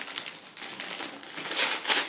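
Paper wrapping on a gift package crinkles and rustles up close in a run of irregular crisp crackles, growing louder toward the end, with no talking.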